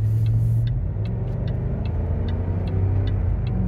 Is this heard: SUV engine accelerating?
yes